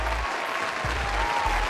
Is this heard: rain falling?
no